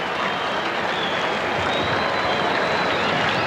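Cricket crowd at a Pakistan vs Australia test match in Brisbane applauding a six by Graham Wood, continuous clapping and crowd noise holding steady throughout with no commentary over it.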